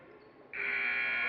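A basketball game buzzer sounds at a French Pro Am versus Canada Stars pro-am game, a sudden loud steady electronic tone that sounds at the end and holds, over faint crowd noise.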